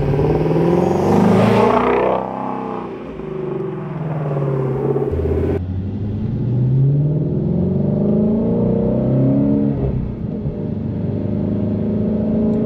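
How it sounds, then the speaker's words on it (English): Engine of a Shelby GT350 Mustang Track Pack with manual transmission heard from inside the cabin while driving, a loud deep rumble that rises and falls through revs and gear changes, with no talking. "driving the Shelby GT350 is a phenomenal experience. Obviously, you get tons of noise in the cabin, and you can listen to just how good this car sounds"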